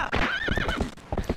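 A horse in Zelda: Twilight Princess whinnies in a wavering neigh over rapid clip-clopping hooves, close and loud, without talk.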